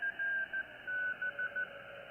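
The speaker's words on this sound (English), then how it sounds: "I should be hearing Morse code there" A Morse code signal coming through a ham radio speaker during an 80-meter net, heard as a steady tone keyed in short and long beeps with an uneven rhythm, set against a faint hiss.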